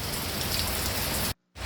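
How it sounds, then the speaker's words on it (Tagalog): Heavy rain falls steadily in a dense, loud hiss of drops on surfaces that continues without pause until a brief cut near the end. "Yan, sobrang maulan. Napaka-ulan po talaga."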